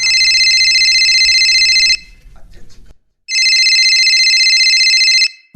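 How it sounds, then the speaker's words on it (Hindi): A telephone rings loudly and close by in two long trilling bursts separated by a short silence, with a brief murmur of a voice between the rings. "मैडम, अध्यक्ष जी का फोन।"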